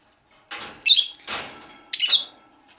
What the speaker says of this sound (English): my bird is driving me insane at this moment because all she wants to do is talk to you guys